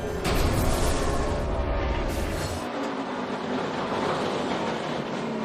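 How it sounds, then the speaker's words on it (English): A 2012 NASCAR race car at the Toyota/Save Mart 350 on a road course hops its wheels under hard braking into a turn, a loud rumbling rattle from the cockpit that fades into steadier engine drone. "Yeah, and the audio, you could hear the thing wheel hop. It sounds like you're going over a railroad track."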